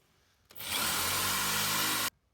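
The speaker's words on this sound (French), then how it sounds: "on perce nos deux rivets" A power drill bores out the two rivets holding a car licence plate, starting abruptly and whirring loud and steady for about one and a half seconds before cutting off, with no talk.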